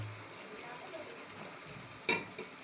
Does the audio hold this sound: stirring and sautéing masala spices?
yes